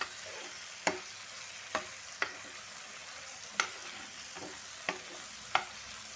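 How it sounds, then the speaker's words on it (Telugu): Ginger garlic paste fries in hot oil for tomato rice, a soft steady sizzle broken by sharp spoon taps and scrapes at irregular intervals as it is stirred, with no voices. "ఇప్పుడు అల్లం వెల్లుల్లిపాయ పేస్ట్ కూడా కొంచెం ఫ్రై కానివ్వాలి ఆయిల్లో"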